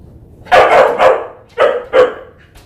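A dog barks indoors during a crochet session, about four loud barks in two close pairs with short gaps between them.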